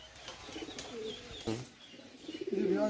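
Pakistani highfly pigeons coo in soft, repeated low murmurs, growing louder and more frequent toward the end, with faint wing flaps and background noise.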